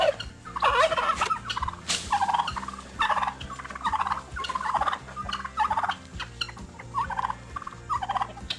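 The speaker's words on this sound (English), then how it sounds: "Good morning, turkeys." Farm turkeys gobble repeatedly near feeding time, a string of loud bubbling gobbles in quick bursts that overlap one another, with a steady low hum underneath throughout.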